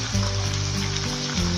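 Masala of red chilli, turmeric, salt and cumin frying in a pan for degi qorma, a steady close sizzle with soft stirring throughout, no voices.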